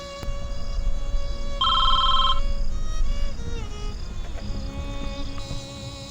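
Telephone ringing in a quiet room, a single clear electronic trill burst partway through, with faint background tones and no talk.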